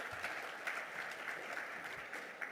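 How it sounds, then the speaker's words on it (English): A large audience applauds steadily at a youth mental health symposium, a dense, even wash of clapping that holds at a consistent level throughout with no voices breaking through. "So just another really big round of applause for all of the great voices today."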